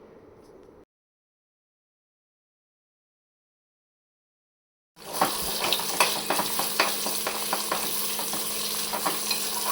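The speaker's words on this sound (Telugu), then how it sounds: "ఇప్పుడైతే ఎగ్ ఫ్రై ఎట్లా చేసుకోవాలో చూసేద్దాం" An egg seasoned with turmeric, salt and pepper fries in a pan for fried rice. After a short quiet gap, a loud, steady sizzle starts up close, broken by scraping and stirring clicks, with no talk.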